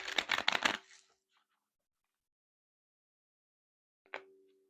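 A quick riffle of cards being shuffled, a rapid burst of flutters, then silence and a single short snap of cards near the end.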